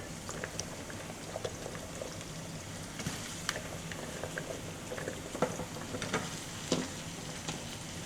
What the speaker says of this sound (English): So now I am getting ready to add the green beans in here.